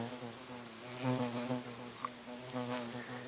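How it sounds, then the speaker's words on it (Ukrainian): Steady, low buzzing of bees close by, swelling and fading slightly as they move, with no voices. "І тут гудуть бджоли"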